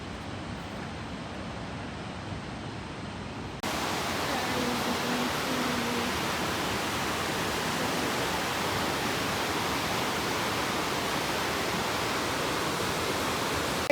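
The Seti River flows below a hillside temple in a steady broadband rush of water, constant and fairly loud, swelling slightly after a few seconds and continuing evenly with no voices.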